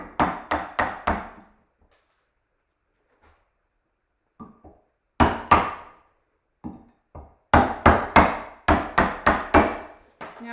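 Sharp, loud chopping strikes split wood away while a 3D shape is carved, coming in quick bursts of several blows separated by quiet pauses and a few softer taps.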